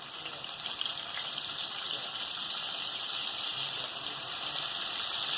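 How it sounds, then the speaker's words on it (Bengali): Shrimp fry in hot oil in a pan, a loud, even, unbroken sizzling hiss held close throughout with no talk. "এবার চিংড়ি মাছটা ভেজে নিচ্ছি"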